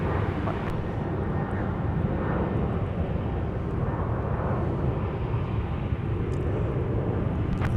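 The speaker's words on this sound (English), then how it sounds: "here is our next arrival on final approach" A Delta airliner inbound from San Jose del Cabo, Mexico, on final approach to Minneapolis–Saint Paul airport, its engines a steady, continuous low roar filling the air at moderate distance without letup.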